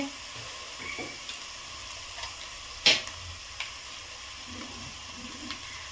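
Onions sautéing in a pan with turmeric, chili and coriander-cumin powder, a steady close sizzle broken by a few brief stirring scrapes and one sharp clack.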